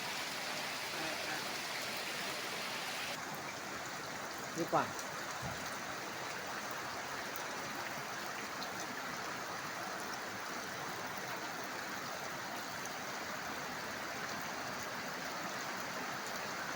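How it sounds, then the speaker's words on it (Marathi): Heavy rain pours hard over a flooded field in a dense, steady hiss as floodwater streams across it toward a well. A voice speaks briefly partway through. "अशा लाटांसारखा पाऊस एकदम जोरामध्ये पाऊस पडत आहे आणि हा बघा वहाळच पडलेला आहे शेतामध्ये"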